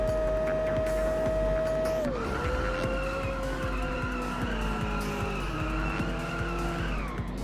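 Race car drifting in the Inertial Drift video game, a loud sustained engine drone with long squealing tire skids that slide and shift pitch as the car swings through a corner, with no talk over it.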